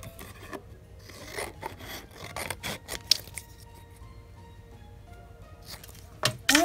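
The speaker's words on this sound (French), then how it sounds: "On découpe autour." Scissors cutting around paper for a scrapbook album structure, giving scattered close snips and rustles with quiet pauses between them and a louder cluster of cuts near the end, no speech.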